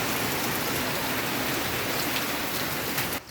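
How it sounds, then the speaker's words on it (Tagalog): Heavy rain pours down steadily as a dense, even hiss, close and loud, with no voices over it until it drops off abruptly at the very end. "Grabing ulan mga kabor oh."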